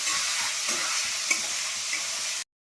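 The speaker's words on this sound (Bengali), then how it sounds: "এটা ডিমটা ভাজি," Eggs fry in a pan with a steady, bright sizzle and a few soft stirring scrapes, close and continuous for about two seconds before stopping abruptly.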